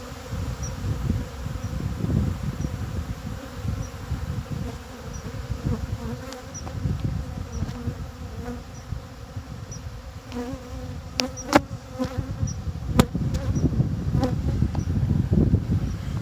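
Honey bees fighting at a hive during robbing, a dense, loud buzzing swarm that drones on without pause, with sharper individual bee whines passing close by now and then.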